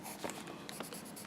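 A brown pencil scribbles on paper in steady, scratchy back-and-forth strokes, close and quiet, with no other sounds.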